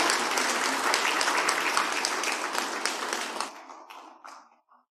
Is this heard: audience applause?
yes